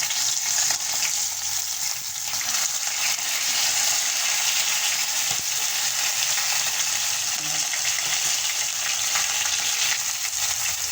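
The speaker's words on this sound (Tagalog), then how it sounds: "So guys, luto na yung prito nating tilapia." Tilapia frying in hot oil gives a close, steady, continuous sizzle and crackle that runs unbroken throughout.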